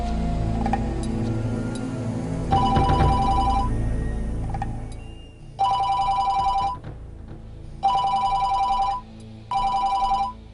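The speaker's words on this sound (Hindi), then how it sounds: "रात के इस पहर अचानक बजने वाली मोबाइल बेल ने इन्हें बेदार कर दिया" A mobile phone rings late at night in an office in Orangi Town, Karachi, its electronic ring tone coming in four loud bursts separated by short pauses over a low background hum.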